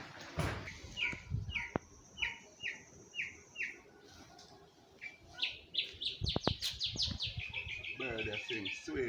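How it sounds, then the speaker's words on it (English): A nightingale sings in a repeated series of bright, rising chirps and whistled phrases, fairly near and clear, with a few sharp knocks and faint movement sounds in the background. "Nightingale."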